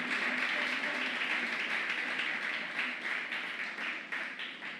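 A church audience applauds during an evening sermon, dense clapping that holds steady and then thins into more distinct, uneven claps toward the end, with no speech over it.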